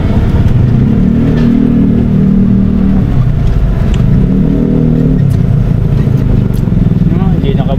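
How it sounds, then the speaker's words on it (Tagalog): Road traffic heard from inside a moving Suzuki Ertiga: a loud, continuous engine drone with swells of acceleration and passing-vehicle rumble, close and steady throughout, with people talking over it. "Traffic."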